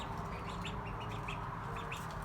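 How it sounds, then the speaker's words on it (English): A pair of pet ducks quack softly in a quick series of short nasal calls over a steady low background hum, fairly close but not loud. "so here's Duke and Daisy, our ducks,"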